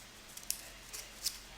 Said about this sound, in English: Handy scissors. Take that bad boy in the middle